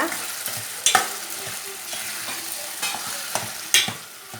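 Fried bondas are stir-fried for bondas chilli, with intermittent metal scrapes and knocks of a spoon against the pan over a soft background sizzle, close by and without speech.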